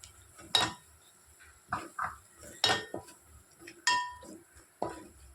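A spoon clanks and scrapes against a pan in several separate strokes while gooseberry pickle with Kashmiri chili powder is stirred. The knocks are fairly close, with quiet gaps between them and no talk.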